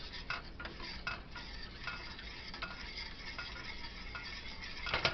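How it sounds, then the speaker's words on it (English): Stock being stirred into a pot of brown gravy, a continuous close scraping and sloshing with spoon taps against the pot, quiet and without voices. "I'm going to stir this in."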